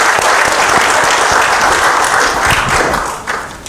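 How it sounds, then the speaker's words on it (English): A room full of people claps in a brief, dense burst of applause that holds steady and then tapers off near the end. "A big round of applause to everybody."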